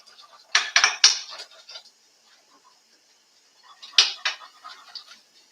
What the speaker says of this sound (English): don't forget about your white sauce. Keep stirring as it cooks.